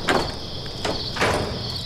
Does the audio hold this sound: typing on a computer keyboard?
no